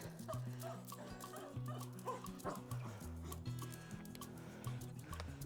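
A dog makes repeated short yips and whimpers at close range, with street ambience of Makarska, Croatia, and faint background noise around it.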